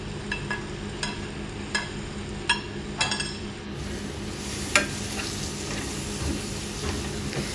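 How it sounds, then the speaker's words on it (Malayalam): Tomatoes being stirred into frying masala for prawn theeyal, a steady sizzle with a scatter of sharp scraping clicks from the spoon against the pan, close and moderately loud with no talk. "തക്കാളിയും കൂടി അതിൻ്റെ അകത്ത് ഒന്ന് മിക്സ് ചെയ്ത് അതും കൂടി കുറച്ചൊന്ന് വാടുന്നിടം വരെ അടുപ്പേരിക്കുക"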